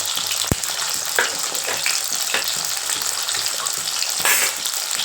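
Shallots, garlic and curry leaves fry in a pan with a steady bright sizzle, while a spoon stirs them through in scattered scrapes and taps, one sharp knock early on; no voices.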